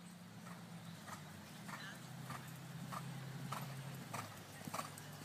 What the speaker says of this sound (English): Horse is cantering very nicely over its back.